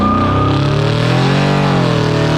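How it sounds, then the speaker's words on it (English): Loud engine revving continuously with a deep, throaty exhaust rumble from a cammed Chevrolet Silverado Z71 pickup with true dual exhaust, pitch rising and falling slightly, close to the microphone with no talking. "This video put the loudest exhaust ever."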